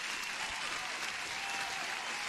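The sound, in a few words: applause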